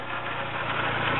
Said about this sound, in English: A little bit of lifter tick going on there,